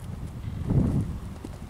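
Strong heavy horse of the picazo overo type moving at a walk, with a few soft hoof clops on ground in a short burst amid outdoor noise and someone talking.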